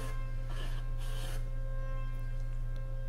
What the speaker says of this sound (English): just very minutely increase the depth until you start seeing some shavings come out